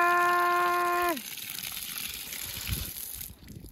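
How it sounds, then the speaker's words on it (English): Water gushes from a newly dug, trenched water line on a ranch. A steady mechanical hum cuts off abruptly, then a close, continuous rushing and spattering of water carries on to the end. "We got water!"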